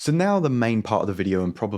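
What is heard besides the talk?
No distinct noise like a dog, phone or traffic.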